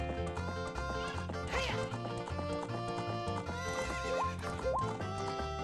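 A horse neighs in Ocarina of Time, its whinny rising over busy game music and clip-clop effects.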